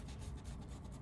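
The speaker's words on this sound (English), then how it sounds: "Just rub it on." A temporary tattoo is rubbed onto a painted surface, a brief, soft, close scraping friction.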